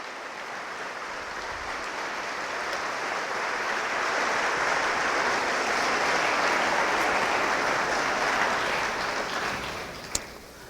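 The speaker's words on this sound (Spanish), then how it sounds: "Dele un buen aplauso a Jesús" A congregation applauds during a Christian sermon at church, a steady wash of many hands clapping that swells over several seconds and then fades, with no talk over it.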